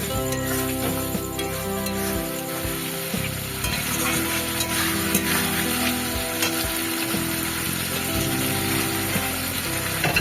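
Potatoes frying in a spice masala with ginger, green chilli and tomato for a rohu fish curry, giving a dense continuous sizzle with rhythmic scraping and clattering of stirring throughout, close and loud, no talk.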